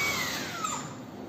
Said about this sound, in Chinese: 咱们来试试咱们这个100块钱的吸尘器